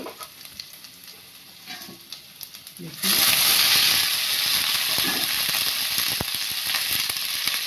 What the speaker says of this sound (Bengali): এইবার আমি সুন্দর করে রেডি রাখা সবজিগুলো দিয়ে দিচ্ছি।